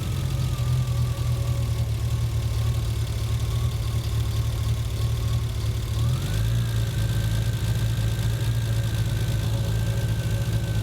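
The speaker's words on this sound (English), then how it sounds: "when we are able to stabilize the idle, because now it's varying so much" A Triumph TR6 engine fitted with Patton Machine fuel injection idles steadily and loudly close by, its hum holding even until the pitch steps up partway through and settles higher, showing the idle speed drifting on its own.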